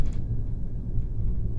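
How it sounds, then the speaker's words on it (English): Low rolling thunder from a thunderstorm, a steady rumble that stays loud and close for the whole stretch, with no talk over it. "There's a thunderstorm."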